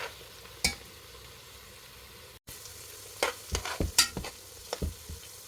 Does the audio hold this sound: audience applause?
no